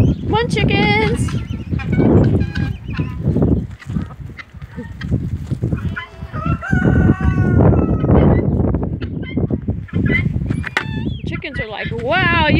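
A crowd of poultry squawk, cluck and honk close by in overlapping bursts, with a rooster-like crow rising near the end.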